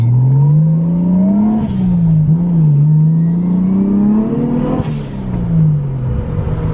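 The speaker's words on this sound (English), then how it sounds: "That blow-off valve sounds funny." A turbocharged 1JZ car engine drones steadily as it accelerates, pitch rising and falling, with short bursts of hissing blow-off valve air release around the middle and near the end.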